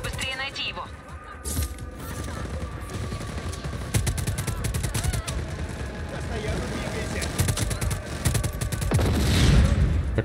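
A turret fires rapid bursts of gunfire in the video game Just Cause 4, crackling fast and loud over engine rumble and game noise. Someone talks over the shooting.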